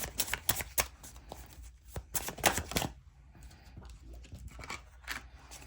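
Tarot cards being shuffled and drawn: repeated crisp riffling and slapping bursts in quick clusters, close and fairly loud, with softer card handling between them and no talk.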